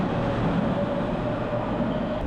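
Steady rumble and hiss of a metro train in Greece running through a tunnel, a continuous dense roar from inside a packed carriage with no talk, ending with a faint click.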